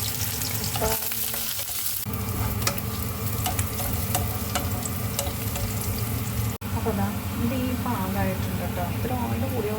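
Sliced onions for beef curry sizzle and crackle steadily in hot oil while being stirred, close and continuous, with a person talking over the frying for much of the time.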